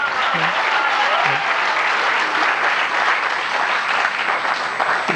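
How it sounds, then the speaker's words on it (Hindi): Steady, dense applause from a large audience at a Hindi comic poetry gathering, continuous and fairly loud for several seconds with a few faint voices woven through the clapping. "तालियां बजाओ तो मन से बजा दो।"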